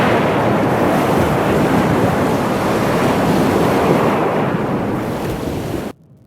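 Ocean waves roar in a dense, steady wash of surf with wind buffeting the microphone, loud and continuous, before cutting off abruptly near the end.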